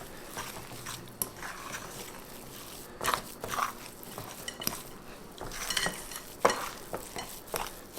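A spoon stirs thick chocolate protein muffin batter in a bowl, making wet, sticky scraping and squelching sounds with occasional clinks against the bowl, close and unhurried, with no talking.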